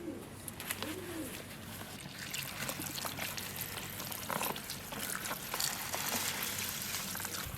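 Tap water runs steadily and faintly while spinach is washed, a soft continuous splashing hiss with a few bird-like coos in the background.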